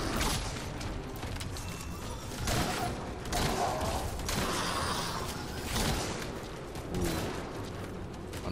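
Rapid, continuous bursts from a stun gun in a video game, dense and steady throughout with mechanical creaks and clatter, loud and close, faint voice underneath.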